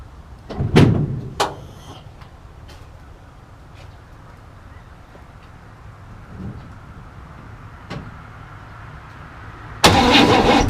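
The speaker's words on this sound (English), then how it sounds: "it's cold out here, but we're gonna try to give her a start." A 1967 Chevy C10 truck engine cranks and catches in short bursts on a cold day, then a loud rush of engine noise swells near the end; a door-like clunk sounds partway through.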